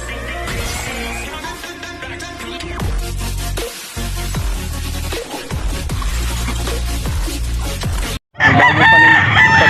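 Several roosters crow loudly in overlapping calls, with chickens clucking between them, close by and continuous, at a market selling quality fighting chickens in Angeles, Pampanga.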